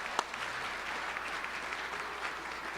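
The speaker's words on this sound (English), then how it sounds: "So let's give them all a round of applause." An audience applauds a high school football team and its coaches at an awards ceremony, with steady dense clapping throughout and one sharp louder clap near the start.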